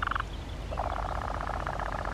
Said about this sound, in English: It was the nightjar.